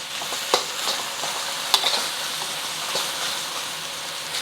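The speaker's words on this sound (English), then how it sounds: "we just want to break it up so that the rice is separating from the clumps" Steady sizzling of leftover rice frying for Hong Kong style beef fried rice, with a utensil scraping and knocking now and then as clumps are stirred and broken apart, close and continuous.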